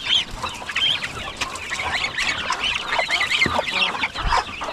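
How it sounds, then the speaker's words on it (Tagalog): Geese being bathed make dense, overlapping honks and clucking calls, busy and close, continuing without pause throughout. "Liguan natin yung mga gansa."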